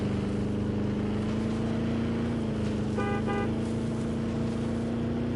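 Vehicle horn in the dinosaur park game Jurassic World Evolution 2, two short honks sounding over a steady loud engine drone while herding dinosaurs.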